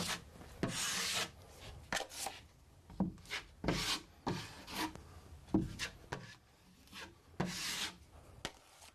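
A trowel scrapes joint compound repeatedly across a hard surface in short rasping strokes, close and fairly quiet, with pauses between each pass.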